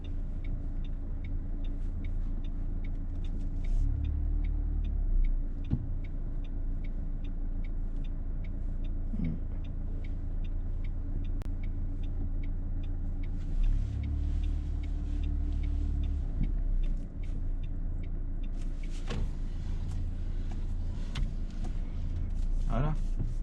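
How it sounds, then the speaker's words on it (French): A car reverses slowly in a straight line during a driving lesson in Bobigny, its low engine rumble steady throughout, with faint interior clicks and a brief mechanical creak near the end, people speaking quietly inside the cabin. "Je vais reculer déjà un petit peu en marche droite."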